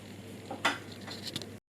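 A tablespoon of vinegar is stirred into a mixture in a bowl, giving soft swishing and a few light clinks of spoon against the bowl, close and quiet, with no voices.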